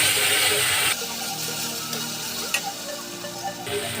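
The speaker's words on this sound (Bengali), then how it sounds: "এই তেলে মধ্যে এখন আমি কালো জিরে শুকনো লঙ্কা আর তেজপুরন দিয়ে দিলাম ওটাকে ভালো করে আমি কষিয়ে নিই" Nigella seeds, dried chillies and bay leaves frying in hot oil, an intense crackling sizzle that drops to a softer steady fry, with a few light utensil taps.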